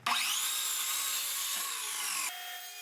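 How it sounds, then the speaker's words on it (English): A power saw cuts wood for the base of a speaker shelf in one steady, close, loud pass lasting a few seconds, the pitch dropping slightly near the end. "I start off the woodworking by cutting the base of the shelf to width and length."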